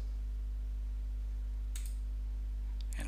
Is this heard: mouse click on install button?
yes